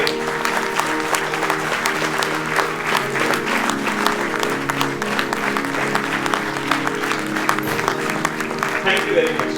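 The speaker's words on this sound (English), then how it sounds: "The way you clap, this entire auditorium should reverberate." An auditorium audience claps loudly and continuously at a coaching-class event, a thick, sustained roar of hands with steady tonal sound running underneath.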